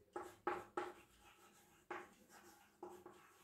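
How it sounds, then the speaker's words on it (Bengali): Handwriting during a grammar lesson, heard as a series of short, quiet scratchy strokes in irregular bursts, close up with no voices. "এটা আমি লিখে দিচ্ছি"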